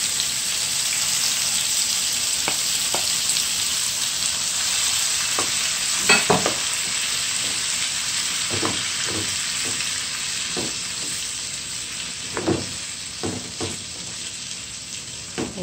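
Seasoned pineapple sizzles loudly in a pot, a dense constant hiss broken by repeated scraping stirs and occasional clatters from a utensil.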